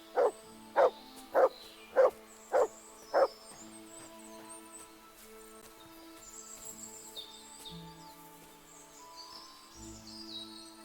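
Six evenly spaced dog barks ring out close and loud in the medieval video game Kingdom Come Deliverance 2, then give way to a quieter ambient backdrop of birdsong and low village noise.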